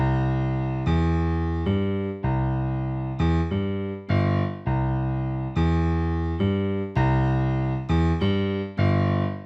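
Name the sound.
piano playing a bass line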